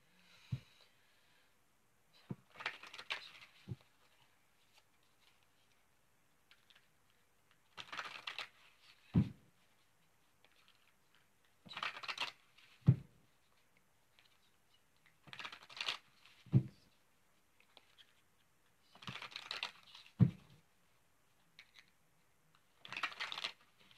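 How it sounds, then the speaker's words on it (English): A deck of tarot cards is shuffled during a reading, quiet repeated bursts of riffling and soft slaps, several seconds apart, close and isolated against near silence. "we'll shuffle the cards and see what the tarot has to say"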